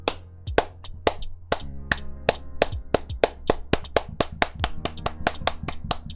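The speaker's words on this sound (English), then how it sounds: "I'm the only one clapping" A single person claps alone during a live music review stream, a run of crisp, close handclaps in a fairly steady beat that grows quicker and denser toward the end.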